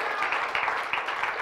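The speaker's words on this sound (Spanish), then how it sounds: "Póngase de pie dándole un aplauso bien fuerte." A church congregation applauds, a dense wash of many hands clapping steadily, somewhat distant and moderately loud.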